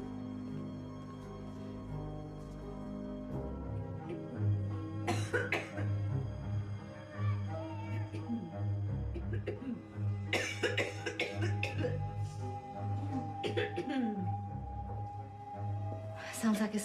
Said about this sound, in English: Sounds like a smoker's cough.